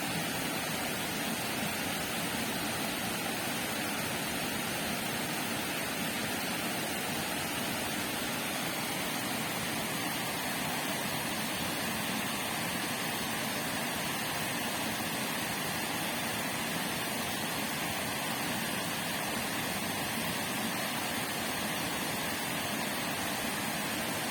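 Steady broadband rush of flowing spring water, continuous and fairly close, with no voices.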